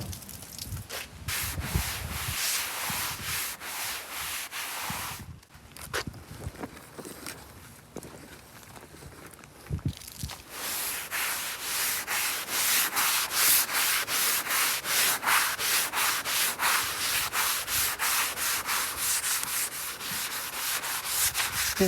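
Crusty rust and embedded dirt are scrubbed off the hood of a 1969 Ford F100 Ranger pickup: close, continuous abrasive rubbing strokes with a brief pause partway, then a faster, steadier scrubbing rhythm.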